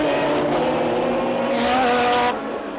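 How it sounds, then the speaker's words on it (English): Porsche and Jaguar V12 sports prototypes race at the Norisring in 1987, a loud, continuous engine roar with rising and falling harmonic pitch as cars pass, cutting down sharply near the end with no talk. "Cheever is reeling in Stuck's factory Porsche as he drops Larari, the Jaguar V12s without the turbo power of their rivals"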